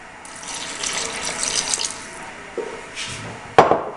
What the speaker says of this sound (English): I'm going to add a little more of the water.